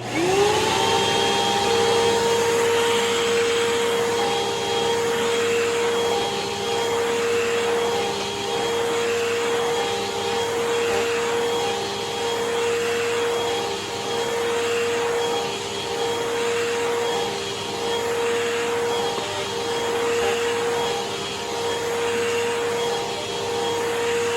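A Huber Whole House Rewind vacuum cleaner runs continuously with a steady high-pitched whine and airy roar, loud and close, with no talking.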